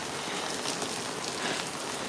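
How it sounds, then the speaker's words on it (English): Heavy tropical rain pours down in the Chughureti neighborhood of Tbilisi, Georgia, a dense, even hiss of drops striking surfaces with no voices. "And for some reason, tropical rain,"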